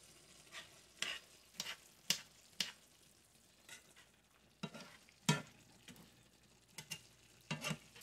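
Hamburger meat cooking with onions and peppers, stirred in a pan: faint sizzling under a series of sharp scraping and clacking strokes from the stirring, irregular and spaced through the clip.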